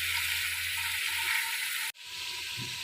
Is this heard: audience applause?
no